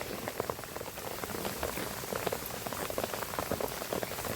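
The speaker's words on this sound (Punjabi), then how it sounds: "ਝੋਨੇ ਦੀ ਫਸਲ ਵਾਸਤੇ ਦਾ ਇਹ ਮੀਂਹ ਬਹੁਤ ਵਧੀਆ" Monsoon rain patters steadily on a surface over paddy fields in a village, a constant crackling hiss of drops with brief sharper taps throughout.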